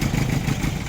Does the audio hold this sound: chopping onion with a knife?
no